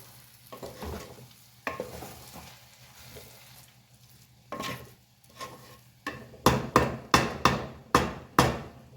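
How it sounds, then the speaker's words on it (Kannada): Chicken wings pulao stirred in a pot with a metal spoon, soft scraping and a faint sizzle at first, then a run of sharp, rhythmic clanks of the spoon against the pot, close and loud. "ಇವಾಗ ನಾನು ಇದನ್ನು ನೀಟಾಗಿ ಮಿಕ್ಸ್ ಮಾಡಿಬಿಟ್ಟು ದಮ್ಗಿಡ್ತೀನಿ"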